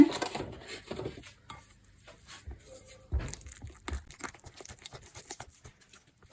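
A spoon scraping and clinking in a bowl as brownie batter is stirred with crème fraîche, irregular close taps and scrapes with short pauses between strokes.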